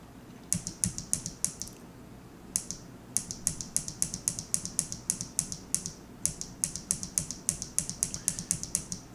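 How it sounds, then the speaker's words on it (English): A mechanical computer keyboard clicks in rapid, fairly regular bursts of crisp keystrokes with brief pauses, steady and close over a low background hum. "I'm sorry if you can hear my keyboard clicking. I do have a mechanical keyboard."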